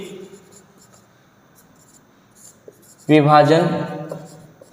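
A pen scratching quietly on paper while a math proof is written out by hand, faint and intermittent. A loud voice then cuts in and talks over it.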